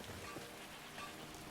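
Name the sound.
rain falling in the video game Skyrim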